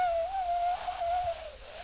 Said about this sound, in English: just like a faint little windy tone, but it's gonna be quite tonal. It's gonna sound like a whistle.